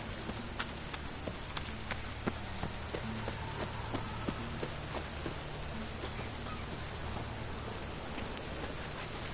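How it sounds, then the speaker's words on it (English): Steady rain falls in a dense, even hiss, with scattered heavier drops tapping close by and a low rumble underneath, continuous and fairly loud with no voices. "And it's raining again."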